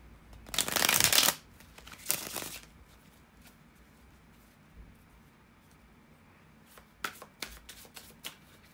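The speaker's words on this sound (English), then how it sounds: "bear with me a second, guys, to shuffle the tarot cards." Tarot cards being shuffled by hand: two loud riffling bursts near the start, then a quiet pause and a few soft card taps and slides toward the end.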